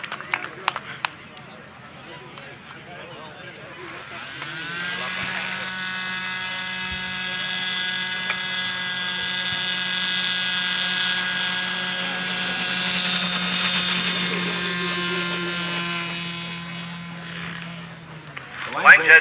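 Small model airplane engine at an SAE Aero Design competition runway, a steady high buzzing drone rising in and holding for about fourteen seconds before cutting off, with people talking faintly underneath.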